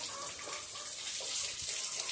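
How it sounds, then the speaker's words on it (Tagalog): Water splashing and running steadily over chickens, a continuous close gushing wash with small irregular spatters throughout and no talk. "Kaya pinapaliguan mo na naman ng tubig."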